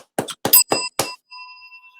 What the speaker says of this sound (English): This is no digital sound effect. This is a real death bell.